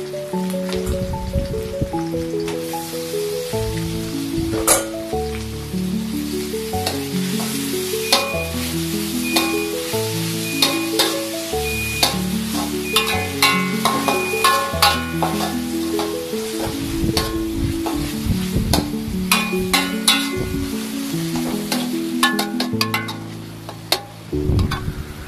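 Minced beef sizzles and crackles steadily in a hot pan for the whole stretch, a constant frying hiss with occasional stirring, under background music.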